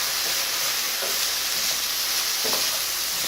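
Apples warm in a hot pan with a steady, soft sizzle and hiss, with faint stirring scrapes now and then, close and continuous with no talking.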